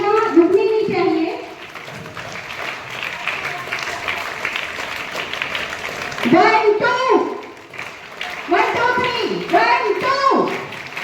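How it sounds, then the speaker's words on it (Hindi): Children at an Independence Day school gathering clap in steady bursts to welcome a chief guest, with an adult voice and children counting aloud over the applause. "बच्चों, तालियां रुकनी नहीं चाहिए।"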